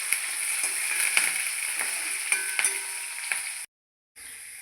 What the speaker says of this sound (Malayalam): നന്നായി ഇളക്കി ഉള്ളിയൊക്കെ ഒന്ന് മൂത്ത് വരുന്നവരെ ഇളക്കി കൊടുക്കാം.